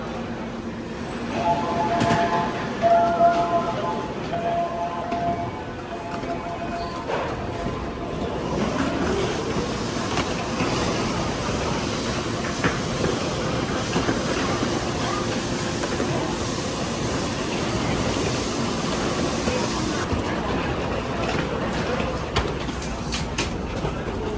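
A train rolls in with a loud, sustained rumble and rattle of wheels on rails, hissing and screeching brakes, filling the whole stretch.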